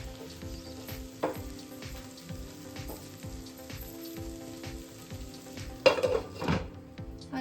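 A potato stir-fry sizzling and frying in a pan, with a steady crackle broken by stirring scrapes and a louder clatter of a utensil against the pan near the end.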